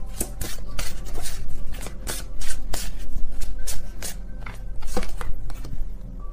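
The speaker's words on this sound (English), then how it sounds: "I don't look at the deck while I shuffle." Tarot deck being shuffled by hand, a run of crisp, repeated card riffles and flicks at close range, steady and fairly loud with no talking.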